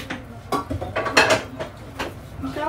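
A metal cooking pot is handled in a home kitchen while a Japanese dish is cooked for the family. Several close, irregular clanks and scrapes of metal on metal sound, with no talking.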